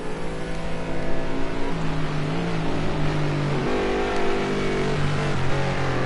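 GT3 race cars at Brands Hatch GP, including a McLaren and a Bentley, droning along the track with a loud, sustained engine roar and shifting tonal whine, one car's pitch rising and falling over a dense background.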